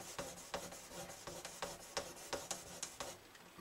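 Fine-grit sandpaper rubbing in small circles on the side of a Martin HD28 acoustic guitar with a side crack, near the binding; close, steady rasping strokes about three per second, with no voices.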